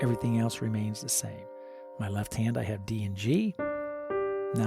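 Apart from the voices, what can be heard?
No everyday noises stand out.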